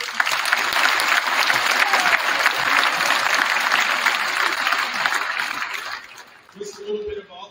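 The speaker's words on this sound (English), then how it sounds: "I think that they deserve a round of applause for them." A gym crowd at a high school state wrestling pep rally gives loud, sustained applause for the senior wrestling class, fading out after about six seconds as a voice picks up.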